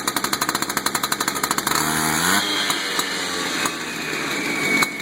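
A chainsaw engine fires up with a rapid pulsing rattle, then settles into a steady, loud idle with a few small blips, close by and with no talk.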